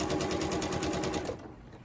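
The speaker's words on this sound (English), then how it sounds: "So you just start sewing these together now. I need to flip that. Back stitch." Sewing machine running fast and steady while stitching quilt pieces for a strip heart quilt, a close, even mechanical whir that stops near the end.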